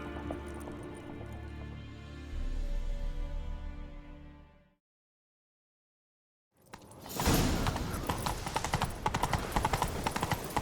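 Horse hooves clip-clop in The Witcher 3 video game, first under a swelling orchestral score that cuts to silence, then a loud, fast galloping beat with rushing noise continuing to the end.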